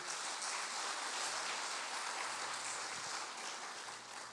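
A church congregation applauds at a Portuguese-language service, with steady, dense clapping at moderate distance that fades slightly at the end under a faint low hum.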